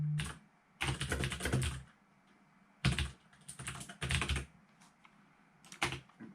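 Fingers type on a computer keyboard in quick bursts of clicking keystrokes separated by short pauses, close and fairly quiet, with no voices.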